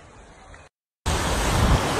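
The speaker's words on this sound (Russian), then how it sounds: "А теперь волна идет." Sea wave rushing up onto a beach, a loud broadband wash of surf that bursts in after a short silence and holds steady, following quieter shoreline noise.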